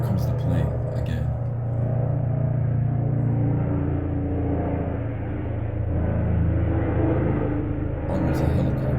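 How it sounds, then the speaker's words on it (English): A helicopter flying overhead outdoors, its steady low rotor drone and rumble holding loud and even for several seconds, with faint higher clatter at the start and end and no speech. "Oh, it's a helicopter."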